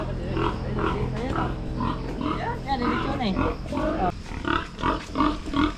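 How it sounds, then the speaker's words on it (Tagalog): Pigs grunt and squeal repeatedly in irregular bursts nearby, while a person speaks briefly over the animal noises. "Oh, ang dami nga palang baboy dito ah."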